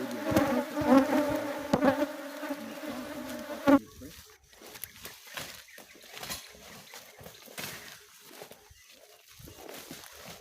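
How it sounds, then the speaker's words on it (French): Honey bees buzzing as they work, a dense droning hum loud for the first few seconds, then quieter scattered buzzing and faint outdoor sounds. "C'était vraiment énorme le travail que ces abeilles faisaient."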